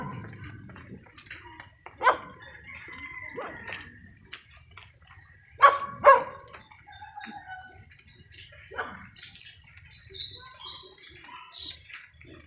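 A dog barks a few scattered times, near to middling distance, at a flood-damaged riverside home, with roosters crowing and birds calling faintly around it in a quiet outdoor setting.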